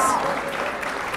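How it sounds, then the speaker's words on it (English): An audience at a clean cookstoves alliance anniversary event applauds, with a short burst of steady clapping mixed with some voices. "There aren't many places I'd go for a party where people would applaud efficiency standards"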